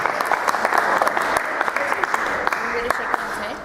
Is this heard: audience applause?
yes